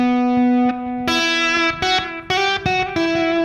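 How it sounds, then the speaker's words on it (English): Electric guitar played with overdrive, reverb and delay, sustained distorted notes stepping up and down in a tapped phrase with echoing tails, loud and alone. "I've got a bit of drive on there, a bit of reverb, and also delay, as you can hear"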